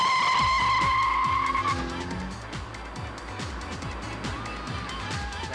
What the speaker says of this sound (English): this extremely pucker motor in a couple of seconds' time will be accelerating because I'll be putting my foot down on the juice pedal